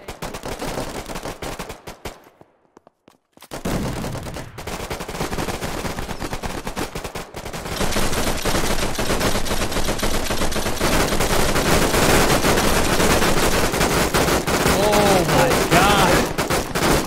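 Sustained machine gun fire from a window position in a free tactical shooter video game, loud and continuous, with a brief gap early on and denser bursts later, plus faint voice chat.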